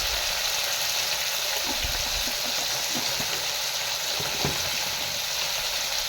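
Ground chili and turmeric fry in hot oil in a pan for an onion-free, garlic-free curry, giving a continuous soft sizzle with a few low knocks and scrapes from stirring.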